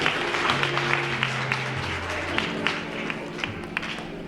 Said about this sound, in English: Please give her a round of applause as she makes her way up